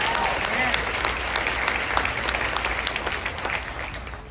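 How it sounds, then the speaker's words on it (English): An audience in a church applauds a group, a dense, continuous wash of clapping that carries on steadily and begins to taper toward the end, with a voice faintly beneath it. "So please give them a round of applause."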